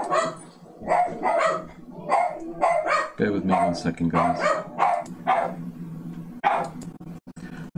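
A dog barks repeatedly indoors in quick, loud bursts close by, with someone talking over and between the barks.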